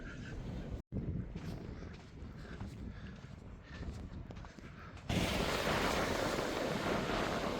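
Waves roll onto the beach at Guise Bay near high tide, a continuous broad wash of surf mixed with heavy wind buffeting, which grows louder and rougher toward the end.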